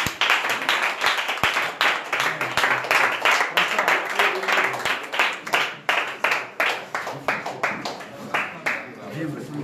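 An audience at a foundation event for a deputy's visit claps, with sharp, rhythmic hand claps close by and steady for nearly ten seconds. People talk and cheer underneath.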